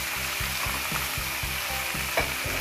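Garlic and fenugreek greens fry steadily in a pan, a loud continuous sizzle with rhythmic scraping as they are stirred about every half second, no voices.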